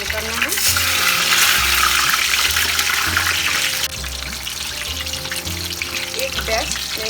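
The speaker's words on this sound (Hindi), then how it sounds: "दोनों साइड हमें अच्छे से फ्राई करना है, बोथ साइड।" Brinjal (eggplant) pieces fry in hot oil in a pan under a splatter screen, giving a loud, continuous sizzle throughout. Intermittent low background sounds run under the sizzling, and the sizzle eases slightly partway through.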